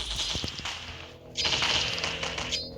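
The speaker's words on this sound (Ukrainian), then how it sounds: "Я йому просто стріляю в бочку і все." Gunshots fired at a nuclear barrel in the Roblox video game, a rapid burst of sharp cracks near the start, then a second denser volley of bright, close shots after a short lull.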